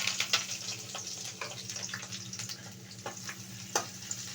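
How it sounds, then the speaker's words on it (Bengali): Chilies, garlic and onion fry in hot oil with a faint, steady crackling sizzle and a few soft stirring taps, near and without voices. "এটা এখন সুন্দর করে ভেজে নিব।"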